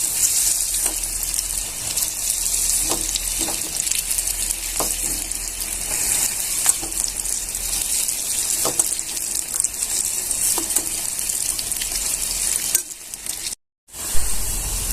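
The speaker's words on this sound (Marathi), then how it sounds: "तेलाचा ताव जास्त ठेवायचा आणि भजे टाकल्याच्या नंतर मग कमी करायचा" Corn pakoras (bhaji) frying in hot oil give a dense, steady sizzle with occasional soft pops and stirring, close and continuous, cutting out briefly near the end.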